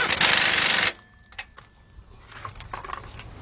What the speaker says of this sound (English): 18mm deep socket, impact. And I'm gonna tighten up the bottom one.